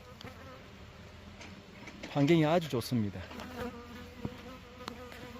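Native Korean honeybees of the Hanmaek strain hum steadily around a rural apiary in Hwacheon, Gangwon Province, a low continuous buzz with someone talking briefly over it in the middle.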